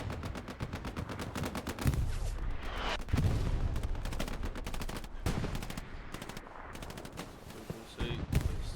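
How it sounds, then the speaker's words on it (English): Artillery shells land amid rattling gunfire on an El Alamein desert battlefield in a World War II game, with dense bursts of rapid machine-gun fire and heavy booming impacts, loud and continuous. "And the artillery start to land."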